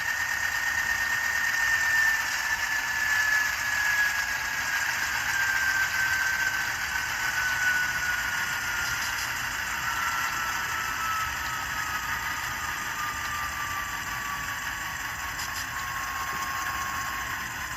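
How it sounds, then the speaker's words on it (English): A Bachmann N scale CSX diesel locomotive's sound unit idles with a steady electronic engine hum, its tone sliding slowly lower as it settles, moderately quiet and alone. "this is how it would sound at idle, and also how it would sound when the locomotive is turned off"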